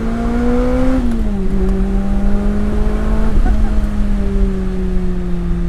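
A 2017 Lotus Elise's high-revving engine drones loud and close, its pitch dipping briefly before holding steady, with a faint voice underneath.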